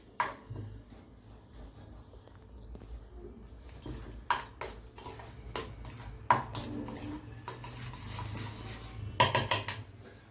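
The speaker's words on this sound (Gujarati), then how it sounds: "હવે આ બેને મિક્સ કરી દઈશું." Aubergine bharta being mixed in a pan, with a quiet background hum broken by sharp metal spoon knocks and scrapes against the pan, bunched near the end.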